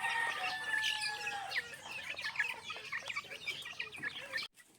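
Chickens and chicks, large and small together in a farm pen, cluck and peep in busy overlapping bursts, close and fairly quiet, with no talking.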